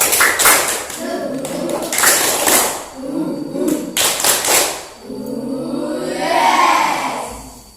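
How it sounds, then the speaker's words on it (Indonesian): A fifth-grade class performs the rhythmic 'tepuk semangat' clapping chant: loud, close sets of sharp group claps in repeated patterns, alternating with children chanting and shouting together. "mari kita bersama-sama tepuk semangat"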